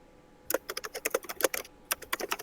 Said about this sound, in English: while Matt is typing